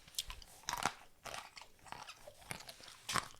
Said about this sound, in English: If you guys hear me munching on stuff, it's peanuts.